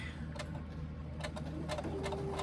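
Sewing machine stitching through vinyl and tape, a faint steady mechanical whir with soft ticking needle strokes, quiet and close with no voices.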